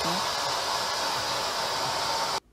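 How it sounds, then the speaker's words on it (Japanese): A hair dryer blows steadily and loudly up close while a makeup artist dries hair on a drama set, a continuous rushing whoosh with faint voices beneath it, cutting off abruptly near the end. "メイクさんに ドライヤーをやってもらうことになった"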